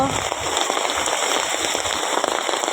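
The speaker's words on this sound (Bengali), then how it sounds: "হঠাৎ করেই প্রচণ্ড বৃষ্টি এসেছে" Sudden heavy rain pours down during a storm in a village, a dense, steady hiss and patter that fills the whole clip without a break and stays loud and close throughout.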